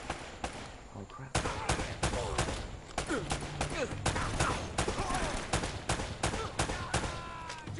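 Gunfire in Uncharted: Drake's Fortune, dense bursts of rapid shots and sharp cracks crowding together almost without pause, loud and close, with brief talk mixed in.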